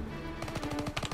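Rapid machine gun fire in the World War II video game Call of Duty WWII sounds as a quick rattling burst of evenly spaced shots that starts partway through. It plays fairly quietly over a steady background hum.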